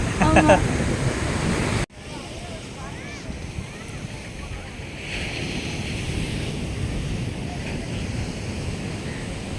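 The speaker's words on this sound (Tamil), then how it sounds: "கடல் கரை காத்து நல்லா ஜில்லு ஜில்லுன்னு வருது" Sea waves and wind on Pondicherry beach: a loud rushing surf roar with wind buffeting the microphone, cut abruptly near two seconds, then a steadier wash of breaking waves and gusts, with faint voices underneath.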